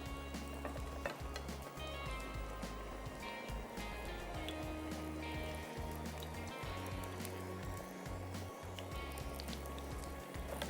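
Cumin seeds and curry leaves sizzle in hot oil, a continuous crackling hiss with small pops over a low steady hum, moderately loud and without pause.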